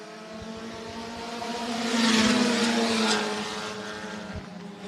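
IMCA Sport Compact race cars roar down the back straightaway of Hancock County Speedway during a feature event, engine drone swelling as they pass close by mid-clip, then easing off, with steady harmonic whine throughout.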